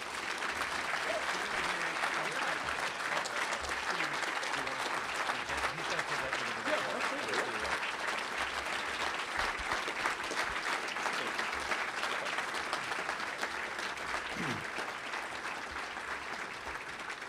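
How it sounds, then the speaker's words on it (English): Sustained audience applause at a university pre-commencement gala, a dense and steady roar of many hands clapping that lasts the whole stretch with no break. "So I applaud you all."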